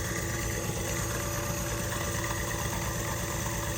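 An engine runs steadily with its pulley spinning at almost 5,000 RPM, giving a loud, continuous hum and vibration with no change in pitch or pauses, and no voices.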